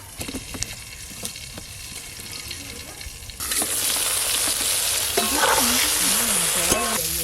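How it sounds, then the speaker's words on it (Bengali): Eggplant pieces frying in hot oil on a village clay stove, with a steady close sizzle that jumps louder partway through as more food hits the pan, alongside occasional stirring and scraping. "তেল গরম হয়ে গেছে, বেগুনগুলো ভেজে নেব।"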